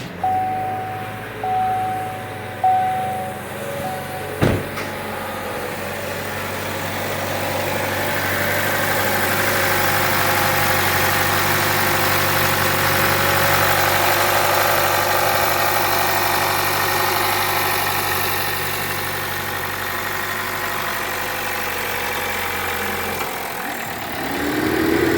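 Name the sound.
2018 Chevy Trax engine idling after valve cover replacement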